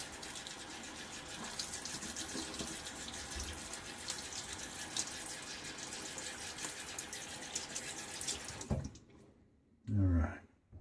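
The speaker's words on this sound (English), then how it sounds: "I'm just going to rinse all that down the drain." A running tap rinses shaving-soap lather down a sink drain, a steady close rush of water that lasts about nine seconds before cutting off, followed by a brief clatter and a few spoken words.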